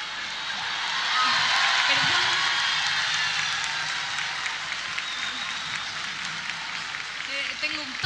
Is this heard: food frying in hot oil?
no